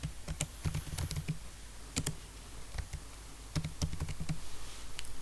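Close computer keyboard typing as code is entered, bursts of quick key clicks separated by short pauses, faint and with no speech.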